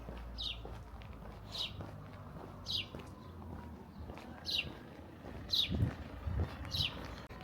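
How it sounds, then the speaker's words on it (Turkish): Short bright chirps recur every second or so against a soft outdoor background with footsteps and low rumble; small birds calling at moderate distance in a village in Hakkari, Turkey. "Şu kuş seslerini duyabiliyor musunuz?"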